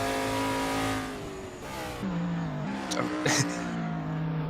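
A very loud race car engine in Assetto Corsa at Bathurst roars past, its revving pitch climbing and shifting, with commentators talking over it.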